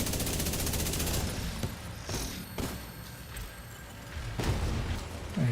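Rapid automatic gunfire in The Division, a sustained loud burst of rattling shots with a few sharper single reports and impacts, dense and continuous throughout.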